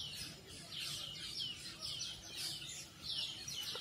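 Black birds chirp and twitter in a schoolyard with trees, repeated bright calls in quick bursts over a low background hum, fairly faint and steady throughout.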